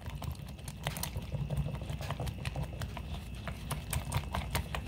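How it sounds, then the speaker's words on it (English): Half a cup of milk and two eggs being stirred together in a bowl for a cheeseburger pie, giving quick, steady clicking and tapping against the bowl with a soft swishing underneath, close and continuous. "now stir that together"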